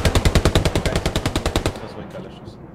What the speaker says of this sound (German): Das war ein geiler Schuss.